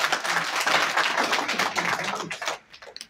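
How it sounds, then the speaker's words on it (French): A crowd at a political coalition's declaration applauds a presidential figure steadily, dense clapping filling the air before tapering off near the end. "Encore une fois, applaudissez le président Birame."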